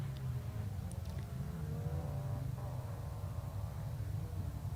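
Rally car number 71, a small car on a rally stage, drones steadily with a continuous low engine note, moderately distant and fairly faint, no voices.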